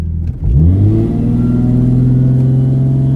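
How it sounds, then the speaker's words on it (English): Car engine held on the trans brake and revved before a rolling launch, a loud close rumble that climbs quickly in pitch and then holds a steady high-rev drone for a few seconds. "to demonstrate how the trans brake works. Pull it back, trans brake"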